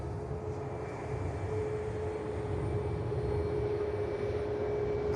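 An EasyJet airliner's jet engines roar at an airport, a steady broad rumble with a sustained whine that holds evenly throughout, with no voices.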